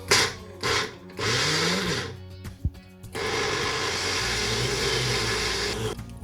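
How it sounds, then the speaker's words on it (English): A blender pulsing wild garlic pesto whirs in short bursts, stopping and starting a few times before running steadily, loud and close, with no voices. "right on top of the blender, give it a bit of a pulse"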